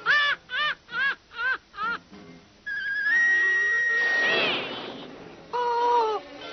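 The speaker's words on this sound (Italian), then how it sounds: "quel fischietto è mio, non soffiarci dentro" A whistle in a Smurfs cartoon sounds in a run of short caw-like toots, then a longer sustained whistle tone with noisy swells, ending in another brief whistled note.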